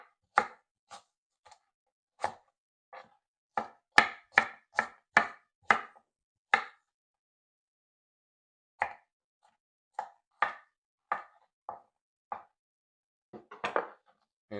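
A knife chops a cored vegetable into cubes on a board, giving sharp, close, dry knocks, some in quick runs and others spaced out with pauses, and no talking.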